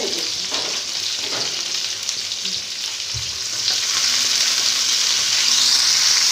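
Fennel seeds and chopped tomato frying in a pan for chicken do pyaza, a loud, dense, continuous sizzle close by, with a brief clunk of stirring midway and the hiss swelling toward the end.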